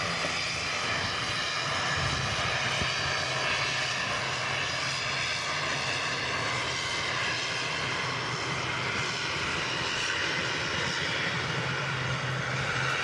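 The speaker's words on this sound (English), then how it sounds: "An A321 Neo this time coming in" An Airbus A321neo comes in to land at Manchester Airport, its engines roaring steadily and loudly from a short distance throughout, with no talking.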